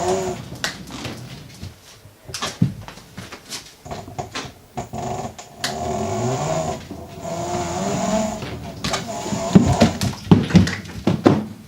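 A rough, rumbling grind rises and falls with irregular bursts and scraping clunks, up close, from the worn rear left hub of an electric skateboard grinding while rolling.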